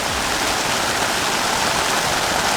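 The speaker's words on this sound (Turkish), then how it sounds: "Yağmur başladı, yağmur başladı." Steady, dense rain pouring down, a continuous hiss of drops hitting surfaces close by, with no voices.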